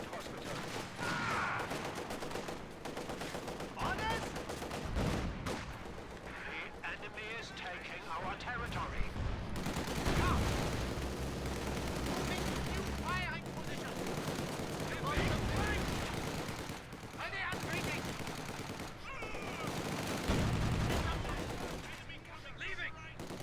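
Machine-gun fire and other battlefield gunfire in the World War II strategy game Company of Heroes 2: dense, continuous bursts with occasional heavier blasts running throughout, mostly under someone talking.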